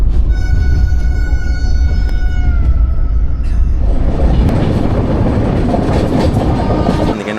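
A special passenger train rolling slowly on the rails, loud and close, with a squealing whine over rumbling wheels that turns into steady clattering.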